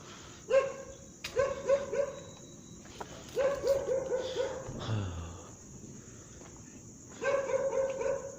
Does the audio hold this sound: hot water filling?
no